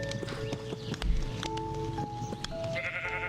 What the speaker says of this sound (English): I don't think I should shear any of these sheep